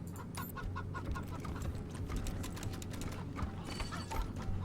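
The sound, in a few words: chicken clucking in the video game Wasteland 3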